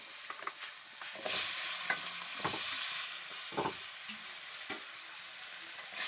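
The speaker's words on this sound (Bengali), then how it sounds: "এবার আমি কেটে রাখা আলুগুলোকে এই তেলের মধ্যে দিয়ে দেবো" Cut potatoes go into hot oil seasoned with salt and turmeric for a Kolkata-style egg and potato curry, setting off a steady quiet sizzle punctuated by several clattering stirs and scrapes.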